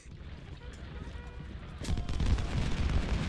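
Cannon and musket fire from the Civil War strategy game Ultimate General: Civil War at the Battle of Gettysburg, a rumbling crackle of distant shots that swells louder partway through, with a voice talking faintly underneath.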